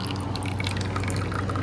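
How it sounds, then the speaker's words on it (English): Water and oil drip and trickle from a flooded Kawasaki FC420V pull-start engine as it is drained, with quick faint drips over a low steady hum. "I'm draining the oil and water's coming out."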